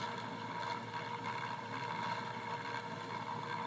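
A pulse motor with an external trigger coil spins at nearly 1,000 RPM, giving off a steady droning hum with a fast, even pulsing that holds throughout at moderate volume.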